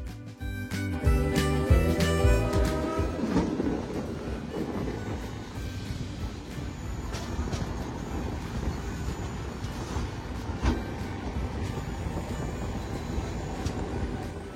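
Kolkata to Tirupati express train, the 12863, running in the evening, with a steady loud rumble and rhythmic clatter of the wheels throughout.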